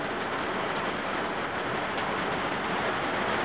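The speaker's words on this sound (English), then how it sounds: "You don't like the rain, do you?" Steady rain falls outside near a house, a continuous broadband hiss with no breaks and no voices.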